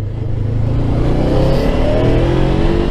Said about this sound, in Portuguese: Olha lá, motorzinho esperto, a motinho curva bem, 100 por hora ali rapidinho.